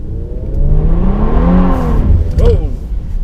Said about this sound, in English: I'm going to mash on the throttle and see what happens